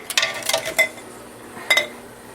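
Glass canning jars of meatloaf clink and knock together as they are hooked with a jar lifter and pulled from a boiling canner, a quick cluster of bright clinks followed by a second pair a moment later.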